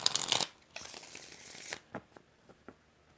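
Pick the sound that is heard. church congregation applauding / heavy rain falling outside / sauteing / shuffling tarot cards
shuffling tarot cards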